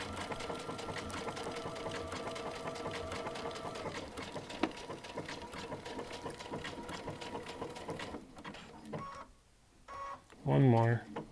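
A Baby Lock sewing machine fitted with a Teflon foot stitches leather in a steady rapid whir, then stops, and a voice speaks over the quiet.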